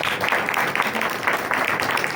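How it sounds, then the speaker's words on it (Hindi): Congregation at a Hindi-language church sermon applauding loudly, a dense, steady wash of many hands clapping at once for about two seconds with no clear gaps. "मैं चाहता हूं एक बार अपने लिए जोरदार तालियां हो।"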